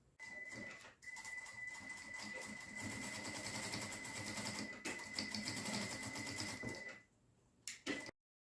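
A sewing machine runs steadily while stitching the lining seam of a fabric glasses case, pausing briefly near the start and stopping near the end, followed by a few short clicks.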